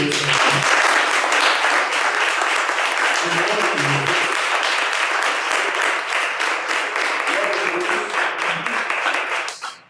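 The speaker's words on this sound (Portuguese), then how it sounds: "E as palmas de louvor." A church congregation claps in praise, sustained rapid applause from many people for nearly ten seconds, with a few low voices beneath, before it cuts off abruptly.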